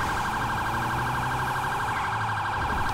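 A vehicle horn blares nonstop in a fast, warbling electronic pattern, loud and close, with no pause throughout.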